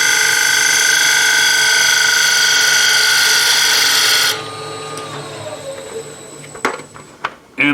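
A wood lathe spins a bowl blank being turned, heard as a loud steady tonal whine that cuts off abruptly, leaving a quieter winding-down hum with a few light knocks and clicks.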